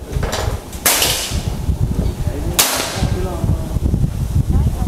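Two sharp, loud cracks from a full-CNC Bocap FX 500cc Mahameru PCP air rifle, spaced roughly two seconds apart, over constant outdoor background noise.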